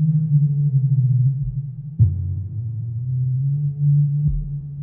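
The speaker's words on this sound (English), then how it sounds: "A third sound I made was with the internal synth of the Converter E1 module." The internal synth of a Sonicsmith Convertor E1 modular module, pitch-tracking an input and set an octave up, produces a loud sustained low droning tone that shifts pitch with sharp attacks at a couple of points, heard alone.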